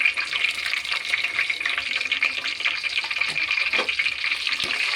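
Four green chilies dropped into hot oil with bay leaves, giving a loud, close, continuous sputtering sizzle with a few sharper pops and no talking.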